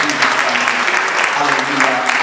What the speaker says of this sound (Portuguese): Salve de palmas para Jesus.